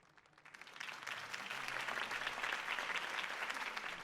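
Crowd applause after Harvey Dent's campaign speech in the Batman Telltale video game swells from a thin start into sustained clapping, fairly faint and distant.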